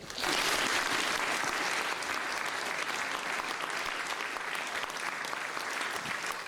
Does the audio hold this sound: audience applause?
yes